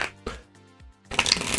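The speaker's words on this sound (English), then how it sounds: "Let's do one more shuffle." A deck of tarot cards is shuffled by hand in a quick riffle, with a louder burst of flicking card edges near the end and a few soft handling sounds between.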